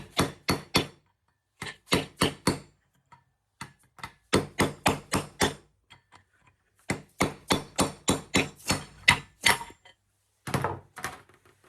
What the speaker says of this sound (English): I hate hitting stuff with hammers.